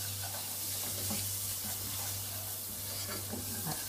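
Spoon stirring chili paste, cinnamon and spices into a thick paste for green zebra tomato chutney, a steady soft scraping and faint sizzle running continuously, close and moderately quiet with no talking.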